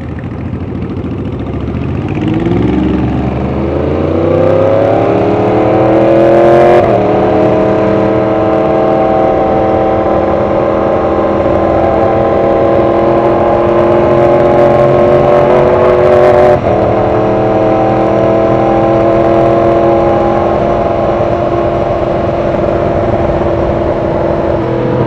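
A motorcycle engine revs while riding, the pitch climbing in a smooth rising sweep, then holding a loud, steady drone with brief shifts, close and continuous throughout.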